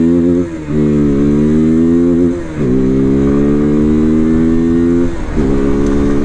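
A Morbidelli F125 motorcycle accelerates hard through its first gears, its engine note climbing in a loud, close whine with brief dips at each of about three quick gear changes, and no voices.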